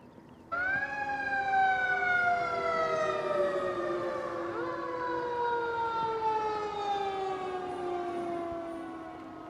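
A siren from an emergency vehicle wails through the city, starting abruptly and holding loud, steady descending tones that slowly glide lower and fade slightly over about nine seconds, with no talking.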